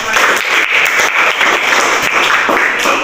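Classroom applause fills the clip, a dense, steady patter of many hands clapping at close range with no talk over it, lasting about three seconds.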